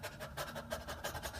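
A man imitates a dog panting, making quick, rhythmic, breathy huffs in an even run of about a dozen pulses, close and fairly soft.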